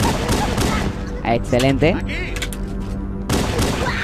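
Gunfire from Halo: Combat Evolved gameplay, a dense run of game weapon shots with booming reports under continuous excited talk throughout.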